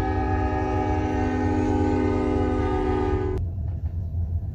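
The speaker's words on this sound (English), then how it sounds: "There's a train." A passing train sounds its horn in a long, loud, steady chord over a deep rumble, then the horn cuts off abruptly and the low rolling noise carries on.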